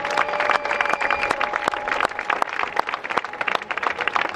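Audience applause greets a woman named Tanja as she is introduced on stage, a steady spread of clapping with sharp individual claps standing out near the listener over a background tone.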